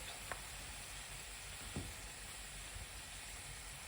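Pork sizzling steadily in a home frying pan, a soft continuous crackle and hiss with a couple of faint clicks, close and fairly quiet, with no talking.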